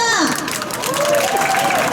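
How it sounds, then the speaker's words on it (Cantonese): A crowd at the ASICS Kumamon Run 2025 in Hong Kong applauds and cheers for a general manager, steady clapping and voices mixed with a loudspeaker announcer talking over it. "我哋俾啲掌聲好嗎"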